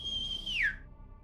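A single whistle from a creature in a Last of Us game: a steady high tone that bends sharply downward and fades, faint and alone over quiet background ambience.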